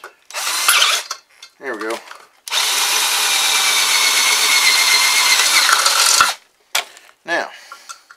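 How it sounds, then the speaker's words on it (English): A drill press whines steadily for several seconds up close, after short bursts of mechanical clatter, with brief talk around it. "May have to use my drill press."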